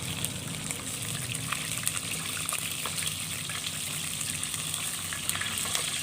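Chicken frying in hot oil, a steady close sizzle with crackling pops running without a break.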